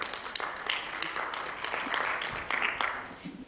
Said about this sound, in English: Let's give him a clap again.